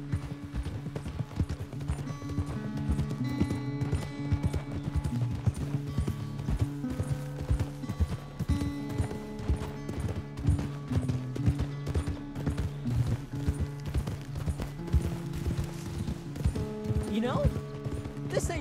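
Horse hooves clip-clopping in a steady, rapid gallop in the Western game Red Dead Redemption 2, with tack and gear rattling, held close and continuous throughout.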